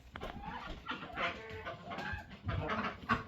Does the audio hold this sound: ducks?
yes